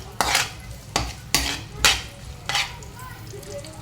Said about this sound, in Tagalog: magigisa na tayo. Unahin natin bawang